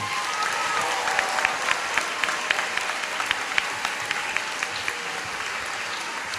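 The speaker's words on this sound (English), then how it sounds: "Can we please have a round of applause for 5 Green?" A crowd at a graduation ceremony claps steadily for the graduates, the applause fairly faint and distant, with a few louder individual claps standing out.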